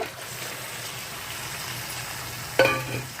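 Onions and chicken sizzle in a hot pan over a high flame as a steady frying hiss, with a brief sharp clatter of a stirring utensil near the end.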